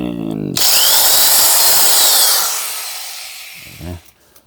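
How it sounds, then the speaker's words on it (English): Power drill boring a hole through a homemade metal trimmer blade, a loud close whine that starts abruptly, grinds steadily for about two seconds, then winds down, with a voice briefly before and after. "drilled a nice hole"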